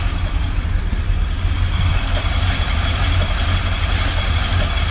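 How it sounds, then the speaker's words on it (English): The small-block V8 of a 1977 Chevrolet C10 idles with a steady, loud, low rumble that stays even throughout and is recorded close up, with no talking over it. "Definitely a nice rumbly low V8 noise."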